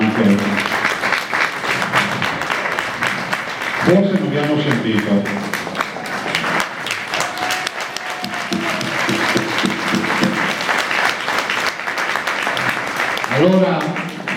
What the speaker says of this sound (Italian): Un super applauso agli organizzatori